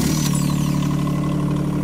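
A DELEKS S100 mini excavator engine starts, with a brief transient at the beginning before settling into a steady, loud, close-up diesel hum with no talking.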